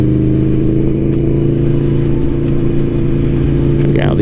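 A 2021 Aprilia Tuono V4 Factory motorcycle lugs along at low speed in sixth gear, its engine a loud, steady mid-pitched drone close to the microphone with rushing wind noise throughout.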